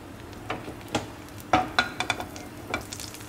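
Butter heating and sizzling in a kadai for restaurant-style kadai paneer, a soft steady fry hiss broken by several sharp crackles and pops, close and fairly quiet, with no talk.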